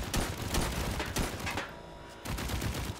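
Rapid gunfire from the cooperative tower-defense shooter Band of Defenders, dense bursts of shots and volleys filling the mix, dropping briefly before resuming just as loud.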